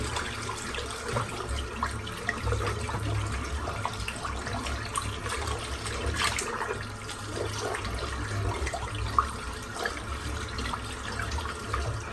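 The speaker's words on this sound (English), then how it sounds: "Just rinsing out the soap. That's that done. And rinse the brush out." Water runs steadily from a tap while shaving soap and a shaving brush are rinsed out, a continuous close splashing wash with occasional brief clatters and no talk.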